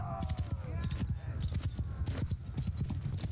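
Hooves beating in a quick, continuous rhythm as horses move in the Mount & Blade II: Bannerlord game, loud and close with some clattering, and no talk over them.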